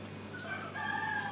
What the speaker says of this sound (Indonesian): Itu ayam.